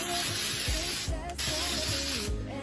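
An aerosol can of white frost spray hisses in long bursts onto an artificial Christmas tree outdoors, with two brief pauses between the close, steady sprays.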